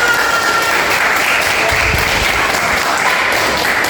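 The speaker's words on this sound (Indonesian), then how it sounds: "Tepuk tangan buat kalian semua." Schoolchildren in a classroom clapping together, a loud, dense and even burst of applause filling the whole stretch with no pauses.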